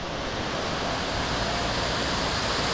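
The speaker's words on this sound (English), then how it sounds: "another cascade, or almost waterfall" A small cascade on a creek in Mount Jerusalem National Park, New South Wales, gives a steady, dense rush of falling water close by, with no voices.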